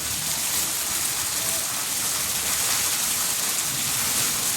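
A steady, dense hiss of heavy rain pouring down evenly throughout in Punjab, loud and unbroken, with no voices.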